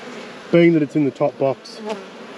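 Honey bees around backyard hive boxes buzz close to the microphone in several loud, wavering passes that swell and fade against a quiet background.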